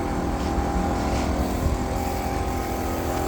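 A universal grain crusher driven by a 6.5 kW motor at 3,500 rpm runs with a steady, dense mechanical roar that holds level throughout, with no speech.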